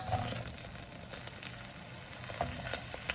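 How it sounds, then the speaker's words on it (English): Onions sizzle in hot oil with a continuous crackling fry, close and fairly quiet, with small pops scattered throughout. "we're starting with our oil, getting it hot, and our onions"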